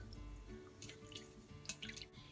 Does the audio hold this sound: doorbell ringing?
no